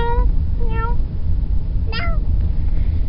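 Two short meows voiced by a young child imitating a cat, followed by a sharper rising mew, close to the microphone over steady low background noise.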